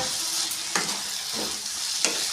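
Sautéed vegetables for macaroni sizzle steadily in a hot pan, punctuated by a few sharp scrapes and clinks as a spoon stirs them.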